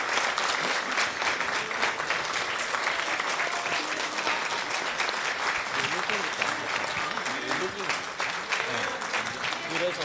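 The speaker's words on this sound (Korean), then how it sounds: "힘내시라고 큰 박수 보내주십시오." Sustained audience applause at a Democratic Party emergency rally held at the National Assembly, a dense, steady wash of many hands clapping loudly and evenly for the full ten seconds with no gaps.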